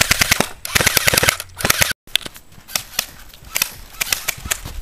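Rapid bursts of automatic fire from an ICS L86 airsoft rifle, loud and close, in several sharp rattling strings separated by brief pauses.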